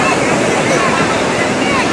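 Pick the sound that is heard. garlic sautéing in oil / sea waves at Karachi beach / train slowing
sea waves at Karachi beach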